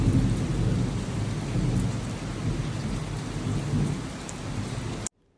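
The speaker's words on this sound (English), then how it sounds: "Raining." Steady, heavy rain pouring down with a dense hiss, continuous throughout before cutting off abruptly at the end.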